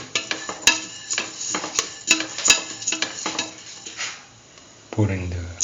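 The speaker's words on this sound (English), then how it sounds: "Now keep on sauteing." Vermicelli pasta sautéed in a pan for peach coconut milk soup: a utensil repeatedly scrapes and clinks against the pan in irregular bursts, with faint sizzling underneath and a louder clatter near the end.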